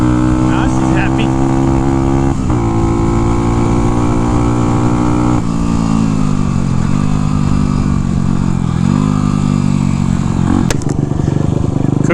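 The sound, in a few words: small Honda engine idling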